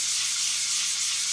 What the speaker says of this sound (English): you have to be very careful when you are sanding it